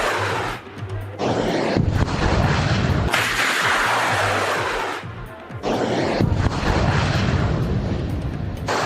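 Missiles launched by Iran in war footage give a loud, sustained roaring rumble that swells and drops in waves, with breaks and resurging blasts across the whole stretch.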